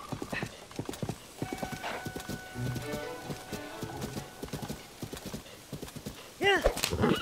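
A horse gallops in The Legend of Zelda: Tears of the Kingdom, steady clip-clop hoofbeats running throughout, ending in a loud neigh, with someone talking over the gameplay.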